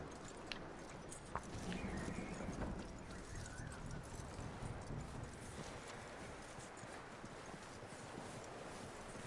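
Hooves of a horse in Red Dead Redemption 2 clip-clop in a steady walking rhythm, fairly close, with a soft background hiss and a couple of sharper knocks early on.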